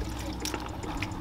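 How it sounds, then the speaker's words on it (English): Water pours into a pot while palm nut soup is cooked in a Ghanaian kitchen, a soft, steady liquid splashing with brief bright splashes, close by and fairly quiet. "Add some water."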